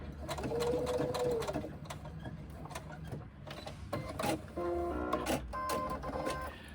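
A sewing machine runs a basting seam along the edge of fabric for a small pouch, whirring in rapid bursts with brief pauses and a few clicks of the mechanism.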